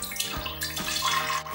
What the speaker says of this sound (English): I'm going to start to strain it into my pitcher. So I'll put this simple little strainer on top